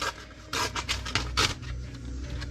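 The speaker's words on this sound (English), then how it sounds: "You take some of this sandpaper to it" Fine sandpaper rubbing and polishing away a dull, opaque gray top layer on a surface, a series of close, steady scraping strokes in a loose rhythm with no talk.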